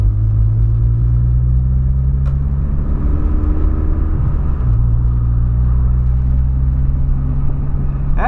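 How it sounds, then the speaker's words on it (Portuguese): A Volkswagen Polo fitted with a 4-inch exhaust tip drives along, its low engine rumble and road noise steady and moderately loud throughout, with no voices. "Ponteira de 4 polegadas, você tá maluco? Mas tá bom, cara. Não ficou nem tanto barulho, não tá incomodando."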